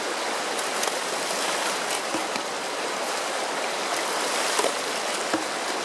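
Water pumped from a channel pours straight into a gold sluice, a steady loud rushing and splashing flow with no break throughout.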